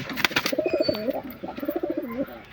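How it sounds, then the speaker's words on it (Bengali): A Chatiyal Madras pigeon coos nearby in soft, repeated low burbling phrases, after a few sharp clattering sounds at the start. "দেখো এটা হচ্ছে চটিয়াল ম্যাড্রাস পায়রা"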